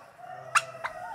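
Farm poultry gobble close by, two quick rough bursts of turkey-like gobbling a fraction of a second apart over a quiet background hum.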